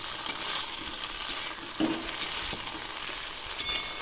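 Chicken balls frying in a pan and stirred, bright continuous sizzle with scraping strokes and a few sharper knocks of the spoon against the pan, close and fairly loud with no voices.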